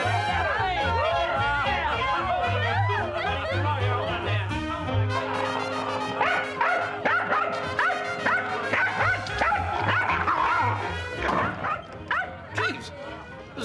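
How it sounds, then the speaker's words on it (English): A dog barks and yips repeatedly from a room in a New York apartment in a period comedy, with rapid irregular barks and whimpers over background music and people talking. "There's a dog in there."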